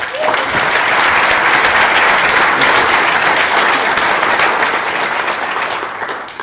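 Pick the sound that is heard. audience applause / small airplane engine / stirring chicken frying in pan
audience applause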